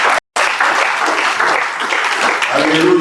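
A church congregation at a fasting and prayer service breaks into loud, sustained applause acclaiming the Lord, dense clapping filling the room with a brief dropout near the start.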